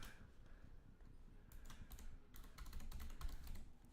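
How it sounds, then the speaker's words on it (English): Rapid typing on a computer keyboard clatters steadily and quietly in the background during an online card game session, with no talking. "Sorry for the typing"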